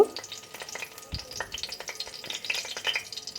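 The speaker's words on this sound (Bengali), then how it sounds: "আমি কড়াইতে তেলটা দিলাম আর এর মধ্যে আমি একটা দিয়ে দেব তেজপাতা" Quiet sizzling of a bay leaf in hot oil, with light crackles and pops scattered throughout.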